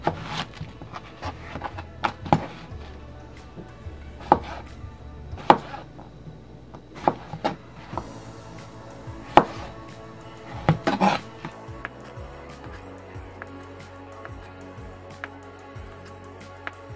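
Cucumber being shaved by hand for a Mediterranean cucumber tomato salad, heard as sharp scraping strokes at irregular intervals with a few light clinks of kitchenware, close and fairly quiet, with no talking.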